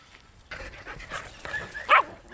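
Twelve-week-old Portuguese Water Dog puppies pant close by in quick, breathy bursts, with a sharp little yip near the end.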